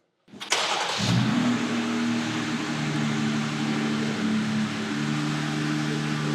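A mini Jeep Gladiator fitted with an aftermarket exhaust starts up and revs, a loud, steady engine drone with rising harmonic tones held close for several seconds.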